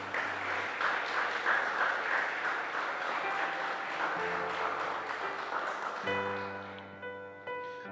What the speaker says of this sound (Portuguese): Você pode aplaudir a Ele para eu tomar um pouquinho de água?